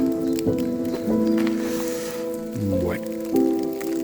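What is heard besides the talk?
rain falling while walking the Camino de Santiago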